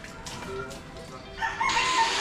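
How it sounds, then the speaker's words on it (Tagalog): Chickens clucking and a rooster crowing nearby, short overlapping calls that swell into a louder crow toward the end. "Yung manok."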